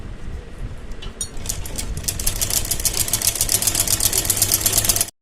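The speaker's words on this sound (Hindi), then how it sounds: "तो इस तरीके से हमने इस सिलाई को कंप्लीट कर लेना है।" A sewing machine stitches a kurti in a continuous, close, rapid whir with fast, regular needle ticks, running steadily until it stops abruptly.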